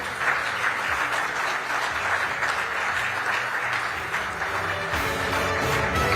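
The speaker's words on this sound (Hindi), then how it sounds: "मैं चाहूंगा कि खड़े होकर तालियां बजाकर" A large crowd gives a standing ovation, applauding steadily for several seconds, dense clapping filling the room without a break.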